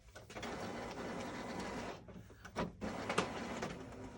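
An Epson WF7720 inkjet printer runs a nozzle check, whirring steadily as the paper feeds, then breaking into short mechanical clacks and a few sharp clicks, with no voices.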